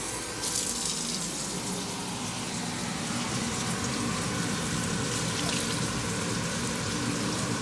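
Water runs steadily from a tap into a pot, a continuous hissing splash that stays even and close throughout.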